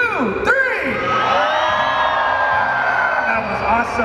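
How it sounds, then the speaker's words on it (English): A large crowd at Halloween Horror Nights at Universal Studios Singapore screams and whoops together on cue. It is one loud, sustained burst of many voices that holds for several seconds. "On the count of three, scream"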